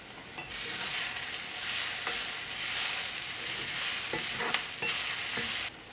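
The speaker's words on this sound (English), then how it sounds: "At this point, add a little bit of walnut to it." Sweet potato hash sizzles steadily in a frying pan as walnuts go in, with a few stirring scrapes and clicks over the constant hiss, close and moderately loud.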